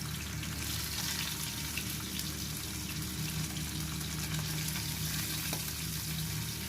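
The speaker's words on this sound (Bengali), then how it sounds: "তেল গরম হয়ে গেলেই এর মধ্যে দিয়ে দেব ম্যারিনেট করে রাখা বাটা মাছগুলোকে।" Marinated bata fish fry in hot mustard oil with a continuous, even sizzle, a dense wash of frying noise that holds steady without pauses or voices.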